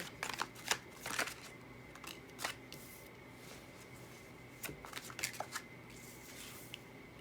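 Tarot cards are shuffled by hand up close, several soft riffling bursts with quiet pauses between them, faint and alone over a low steady background hum.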